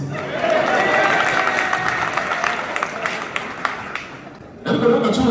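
A crowd applauds with dense, sustained clapping mixed with some cheering and laughter, fading slightly before a renewed swell of voices near the end.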